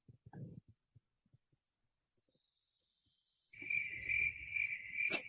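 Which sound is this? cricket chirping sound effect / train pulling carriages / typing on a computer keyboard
cricket chirping sound effect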